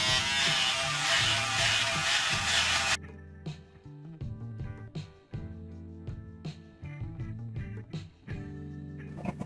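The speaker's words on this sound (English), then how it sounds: "I like to use an electric razor." An electric razor shaving, a steady buzzing hum with short rubbing strokes, close and moderately quiet, following a brief burst of noisy sound at the start.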